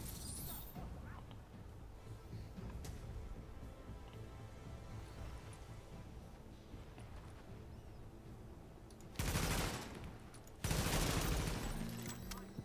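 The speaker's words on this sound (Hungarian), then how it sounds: "Az a mesterlövész az csúlya. Az lövöldöz be egyébként minket ezerrel." Sniper gunfire in a New York-set video game comes as two loud, sharp broadband bursts near the end, after a long stretch of dense low rumbling battle ambience.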